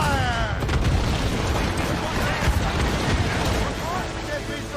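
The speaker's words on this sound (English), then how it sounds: "Enemies firing! We've been hit! Fire!" Heavy ship cannon fire in a naval battle in Assassin's Creed Rogue, a dense, continuous rumbling roar of booms and crashing noise with no distinct individual shots, steady and loud throughout.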